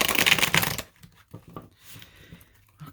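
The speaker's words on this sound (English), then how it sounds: "a couple more quick shuffles here." A burst of tarot cards riffling briskly for under a second, followed by quieter soft taps and shuffling handling noises.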